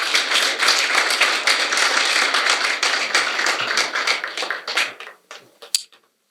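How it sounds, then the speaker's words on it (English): Audience applause at a foster care month church service fills the hall with steady, dense clapping before thinning to a few scattered final claps and fading out. "Let's give them a round of applause."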